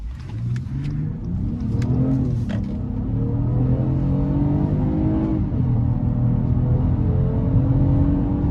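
A 2020 Acura TLX V6 SH-AWD engine with VTEC revs hard and steadily, its roar climbing and sustaining at high pitch, close and loud with no voices.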